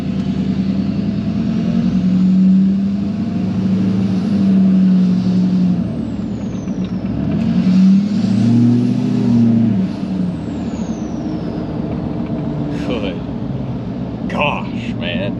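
Duramax LBZ diesel truck fitted with an HSP high flow intake, its engine droning steadily while driving and swelling under throttle, with cab noise and a couple of brief sharp clicks near the end.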